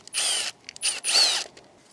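A power tool spinning out Torx 20 screws from the DMTL pump on an E53 BMW X5, three short whirring bursts close up, separated by brief pauses.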